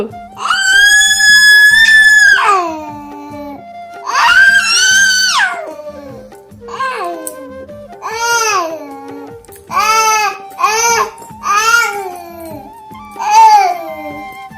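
A voice imitates an angry cat, letting out a series of long, shrill screeches and yowls with short pauses between them.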